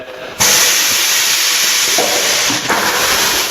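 A tire changer machine breaking a tire bead gives a sudden loud pneumatic hiss that holds steady for about three seconds, with a brief dip and a clunk near the end.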